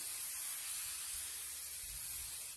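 A can of spray glue sprays onto quilt fabric in one continuous, steady hiss, close and fairly loud, with no voices over it.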